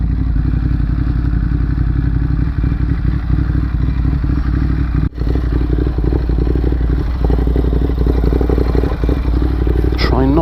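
Several motorcycles ride together on a road, their engines droning steadily and loud close by, with clattering and thuds over the engine noise and a brief rev near the end.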